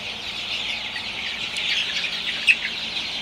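Sonali super hybrid chicks drink water while giving soft, high clucks and chirps, a steady twittering murmur with one sharper peep standing out, near and without talk.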